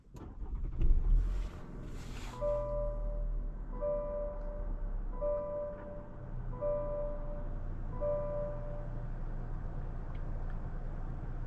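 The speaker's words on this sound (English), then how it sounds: "today we're going for a drive in this 2025 Cadillac CT5 Premium Luxury" Steady low engine drone and road rumble from a 2025 Cadillac CT5 Premium Luxury with a 2-liter turbocharged four-cylinder on the move, with a repeating soft electronic chime tone sounding at regular intervals over the cabin hum.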